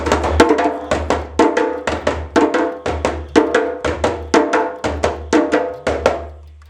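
Djembe played alone in a repeating pattern of two deep bass strokes followed by two sharper tone strokes, about a dozen crisp resonant hits ringing out in steady rhythm, close and loud.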